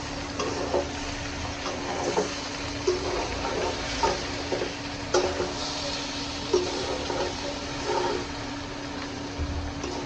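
Potatoes frying in hot oil for mutton biryani give a steady close sizzle, punctuated by a few sharp clinks of stirring against the pan over a constant low hum.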